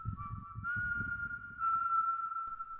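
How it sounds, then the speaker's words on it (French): A thin, sustained whistle in a dark forest for a horror narration, a steady eerie tone drawn out for several seconds over soft low thumps, faint and unaccompanied by speech. "Et le sifflement a recommencé."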